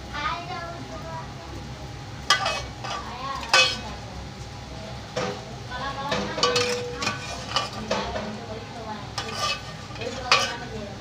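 Food frying in hot oil in a pan on a home stove, a continuous sizzle broken by clinks of a spoon or slotted ladle against the metal, with someone speaking over it.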